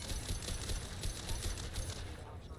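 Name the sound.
gunfire, high impact shot in Mass Effect 2 video game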